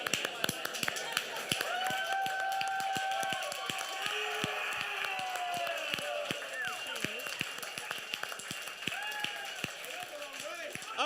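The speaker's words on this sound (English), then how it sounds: "please give a big round of applause to Chobra and Machine." Studio audience claps and cheers as two hosts arrive on stage at a live esports gaming broadcast, a dense steady clatter of applause running the whole time with voices and shouts mixed in.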